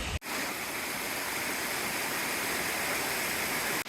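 Creek water rushing steadily at a trail crossing in the Sipsey Wilderness, a loud, continuous broadband wash of flowing water with no voices, briefly dipping at the start and end.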